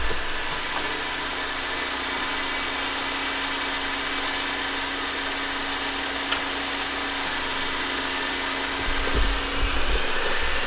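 Honda Civic EG sedan engine running steadily after an automatic-to-manual swap, a continuous even drone with a brief low rumble near the end and no talk.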